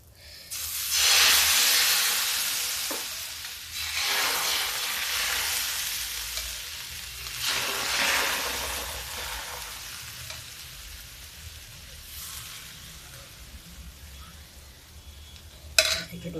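Semolina (sooji) dosa batter sizzles loudly on a hot pan over a gas flame lowered to low heat, a steady broadband frying hiss that swells and fades in waves with a brief clatter near the end.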